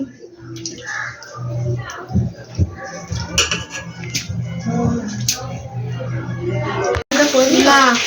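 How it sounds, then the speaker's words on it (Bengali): Mutton meat being washed by hand with water in a home kitchen, soft splashing and wet handling under nearby conversation, with a brief louder rush of water near the end. "এখানে এখন মাংস ধোয়া হচ্ছে মাটন"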